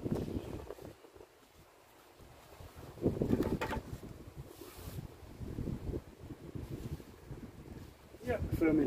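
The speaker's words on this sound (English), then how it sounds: "And the wind's getting up again." Wind gusting around an old belfry under restoration, a low, uneven rumble buffeting the microphone that swells and fades in surges, with faint voices mixed in.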